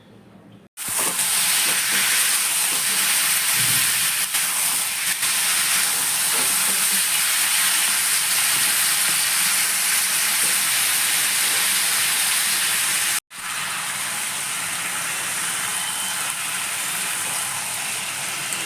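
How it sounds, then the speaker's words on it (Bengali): Chicken pieces and onions frying in a pan, giving a loud, steady broadband sizzle that runs almost the whole time with one brief cut near the middle; no one talks. "চিকেন ভাজা হয়ে গেছে, আমি পেঁয়াজ দিয়ে দিলাম"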